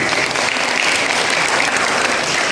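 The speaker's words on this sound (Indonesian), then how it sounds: "Tepuk tangan untuk Gentri." A seated audience at a GenRe ambassador inauguration ceremony breaks into steady, full applause, with continuous dense clapping close and loud throughout.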